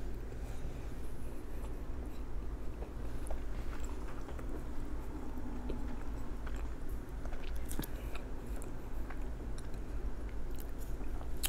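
Close, steady chewing of an Auntie Anne's pretzel: soft, moist mastication with occasional light crunchy bites, continuous and intimate, with no speech.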